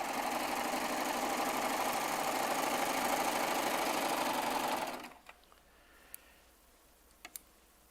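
A Baby Lock Triumph serger sews quilt strips with a steady, fast, even hum for about five seconds. It then stops abruptly, leaving a quiet room with a few faint clicks.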